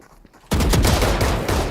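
Rapid bursts of video game gunfire erupt suddenly after a near-silent moment and keep going dense and loud, like a sustained fusillade.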